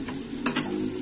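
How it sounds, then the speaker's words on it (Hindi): Spiced masala with red chilli powder and green chillies fries in a pan for bhindi masala, giving a soft, close sizzle with a couple of brief stirring scrapes. "इस मसाले को अच्छे से भून लेंगे।"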